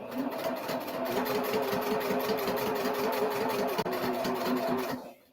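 A sewing machine runs steadily, stitching along the line of a paper-pieced pillow block, its fast, even needle rhythm close and loud for about five seconds before stopping abruptly.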